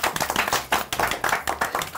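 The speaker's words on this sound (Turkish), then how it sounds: "O zaman Savaş abi alkışlıyoruz seni." A studio audience on a Turkish daytime TV show claps steadily in quick rhythmic bursts, close and fairly loud, with almost no talking.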